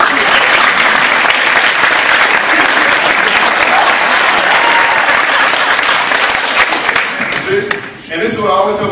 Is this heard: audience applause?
yes